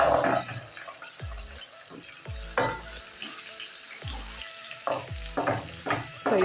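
Beef pieces frying in a saucepan while being stirred, a moderate sizzle broken by repeated scraping clanks of the spoon against the pan, close with no speech.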